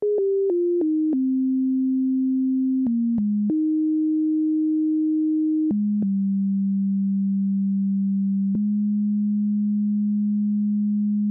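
A plain, pure MIDI synth tone steps through a slow melody of sustained notes, shifting pitch every second or so, with no other sounds.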